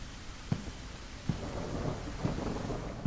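Steady rain patters in the horror game Stories to Tell: Greyville Stay, broken by three or four low thunder rumbles at irregular intervals, with a fairly loud, dense wash of rainfall and no voices.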